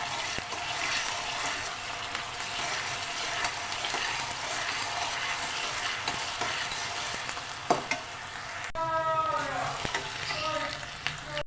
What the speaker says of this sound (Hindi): ये देखें 1 टेबल स्पून लहसुन अदरक का पेस्ट, इसको डाल के हम फ्राई करेंगे